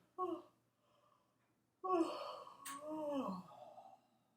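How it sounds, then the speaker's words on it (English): Two breathy, drawn-out vocal exhalations, a short one then a longer one sliding down in pitch, like a big yawn, close and fairly quiet. "One more big yawn."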